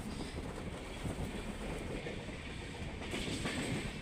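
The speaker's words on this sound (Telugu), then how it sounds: "ఈ లోపల ట్రైన్ కూడా వచ్చింది." A passenger train on the Hyderabad to Rajahmundry route rolls steadily into the station, its wheels giving a continuous rumbling clatter at close range, with no one talking.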